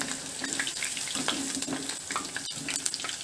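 Cauliflower florets for gobi manchurian frying in oil, a steady crackling bubble with small pops throughout, moderately loud and close, with no talking.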